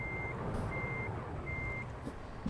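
Steady electronic reversing beeps from a backing truck in American Truck Simulator, three evenly spaced tones over a low engine rumble, fairly quiet and with no one talking.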